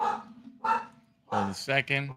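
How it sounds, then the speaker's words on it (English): Dogs bark a few times in quick succession, fairly close, right after a person speaks briefly. "Sorry for the barking dogs in the background."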